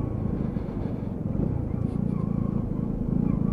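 A Lexmoto Riot petrol motorbike rides along with a steady, buzzing low engine drone that stays loud and even throughout, close to the listener.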